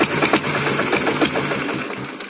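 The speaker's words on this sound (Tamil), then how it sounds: "ஒரு 3 டைம் 4 டைம் நல்லா பேலன்ஸ் கிடைச்சா வண்டி ஸ்டார்ட்" A diesel 1989 Royal Enfield Bullet motorcycle engine running just after a kick-start, giving a steady, loud, close thumping idle with a regular rhythmic knock throughout and no talking.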